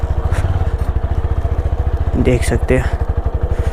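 A TVS Apache 160 4V BS6 motorcycle fitted with a full-system exhaust, ridden through mud, gives a loud, close, rapid engine thump throughout while someone talks over it briefly.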